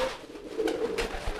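Pigeon cooing during a courtship drive, a male domestic pigeon pressing toward a hen: a low, soft coo rising over about a second amid faint background noise, with no talk.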